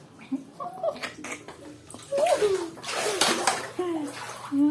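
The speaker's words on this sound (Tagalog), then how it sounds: "Biglang taas na ang baha." Floodwater rising suddenly inside a flooded home splashes and churns close by, a continuous wet rushing under intermittent voices talking.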